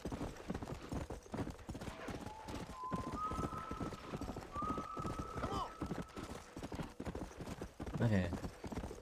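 A horse gallops on and on in Red Dead Redemption, its hooves pounding in a fast, even clip-clop close up, a brief whinny-like cry near the end, and speech heard over the running.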